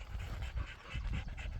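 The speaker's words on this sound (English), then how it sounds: "I took the dogs out again." Dogs panting outdoors, rapid rhythmic huffing breaths close by, fairly quiet, with no talking.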